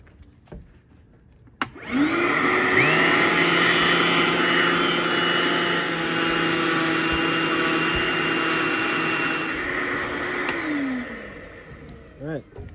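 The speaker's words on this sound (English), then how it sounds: "so I'm just gonna sand it down and repaint it." A power sander works on an old 1965 Mustang steering column, its motor whirring up into a loud steady whine for about nine seconds before winding down, with brief speech around it.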